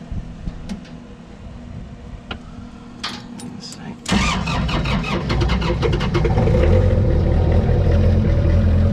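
An engine on a vehicle called Thomas 173, with a working alternator and fuel gauge, cranks and catches at about four seconds, then settles into a loud, steady running rumble that builds slightly near the end. Quiet talk and handling noises come beforehand.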